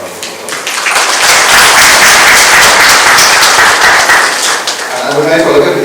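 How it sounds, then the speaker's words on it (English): Audience applause at a night of a Ramayan Yagya religious gathering: loud sustained clapping from a large crowd that swells then tapers, with a voice resuming as it fades. "please give a round of applause"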